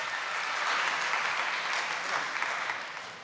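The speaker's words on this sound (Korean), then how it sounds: "박수로 모셔 주시기 바랍니다." Warm applause from an audience at a youth joint worship service styled as a blessing talk concert, greeting a guest called to the stage; a dense, steady wash of clapping that holds for several seconds and eases slightly at the end.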